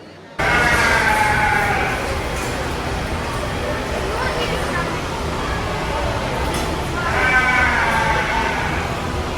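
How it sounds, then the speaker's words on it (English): Goats or sheep in a barn at the Kentucky State Fair give drawn-out bleats at the start and again near the end, over a loud, constant background of crowd and barn noise. "If you hear that yelling in the background, that's one of these goats or sheep or whatever they are."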